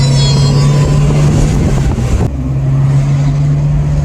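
A 1994 Mazda MX5 driving with a steady, loud engine drone and wind noise, the tone shifting sharply midway as the car passes or changes gear, then settling back into a constant hum.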